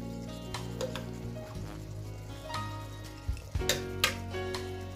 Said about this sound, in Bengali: আদা রসুনটাকে মশলার সাথে ভালো করে মিশিয়ে নিতে হবে।